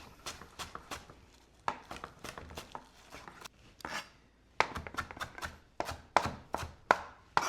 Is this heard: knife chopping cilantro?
yes